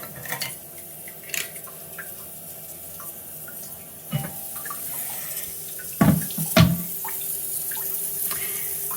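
A toilet cistern's inlet float valve refills poorly, giving a low, steady hiss and trickle of water with occasional louder knocks and clunks from the tank.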